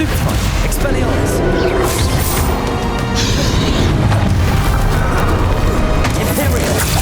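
Spell impacts crash and boom through a Hogwarts Legacy final boss fight against Ranrock and a dragon, dense and loud throughout with overlapping blasts and rumbling.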